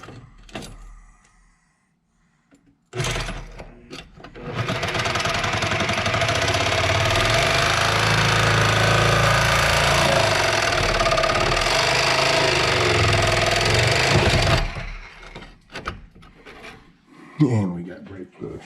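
A power saw cuts through the rear body of a car, a long loud continuous rasping grind lasting about twelve seconds, with quieter clunks before and after.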